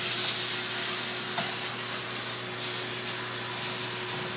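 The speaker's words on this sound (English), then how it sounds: "I'm going to go in here and flip these pork chops over" Pork chops sizzle and fry steadily in a hot pan after being flipped, a continuous close crackle with one small spatter burst partway through.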